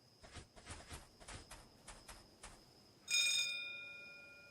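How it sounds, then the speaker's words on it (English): Doorbell in The Dark Rites of Arkham video game: a series of short metallic rings repeating quickly, then a single sustained chime that rings out and slowly decays. "guess we'll be polite and ring the doorbell."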